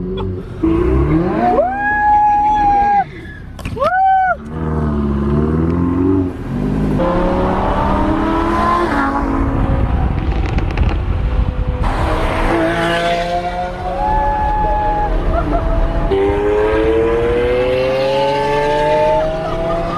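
A Lamborghini Aventador driving close by on a Dubai street, its engine revving loud with rising and falling pitch sweeps, repeated accelerations and brief tire squeals across the stretch, with little talk over it.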